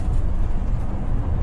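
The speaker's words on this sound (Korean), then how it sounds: "자, 5단으로 변속을 한번 해보겠습니다" A heavy bus engine drones steadily at low pitch in fifth gear, engine braking, loud and close, with a dense rumble and no other sounds on top.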